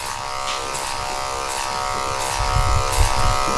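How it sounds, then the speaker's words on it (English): Electric hair clippers fitted with a number 2 blade, worked clipper over comb during a skin fade haircut, give a steady close buzz that swells slightly louder toward the end. "I'm gonna keep going in with the number 2 blade, and we'll start clipper over combing on the other side."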